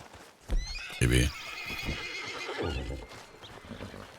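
A horse gives a loud, close neigh that rises and shakes, then trails off, with faint hoof clops and some background noise after it.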